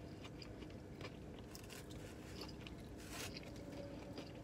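Bites and crunching chews into extra crispy, hot Raising Cane's fried chicken, close and fairly quiet, with irregular crackly crunches over a steady low background.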